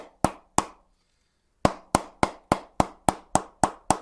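Wrapped cricket bat struck hard with a ball mallet, sharp loud knocks: two hits, a pause, then eight evenly spaced blows close to the mic, no talk.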